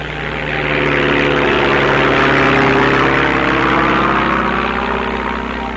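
A loud, steady helicopter engine drone in Antarctica during the 1957 Hillary expedition, close by and continuous, swelling slightly at the start, with no talking.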